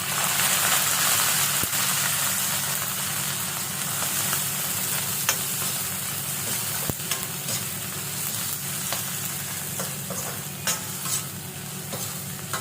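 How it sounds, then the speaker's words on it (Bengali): Kachki fish fries in hot oil in a pan, giving a loud, continuous sizzle with occasional sharp pops and stirring clicks, and no one speaking. "এই তেলে আমি কাচকি মাছটা ভেজে নিলাম।"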